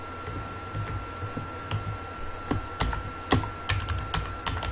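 Scattered clicks from keys being pressed on a computer keyboard, irregular and close, with a faint steady hum underneath and nobody speaking.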